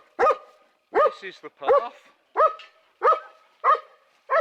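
Several dogs bark repeatedly in short bursts at close range beside an overgrown countryside footpath near a Hampshire farm, with someone speaking between the barks.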